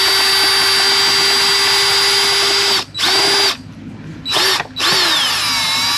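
A power drill driving bolts on a baby seat bracket mounted to an e-bike whines loudly in several bursts, with short gaps and pitch drops as the motor slows under load and restarts.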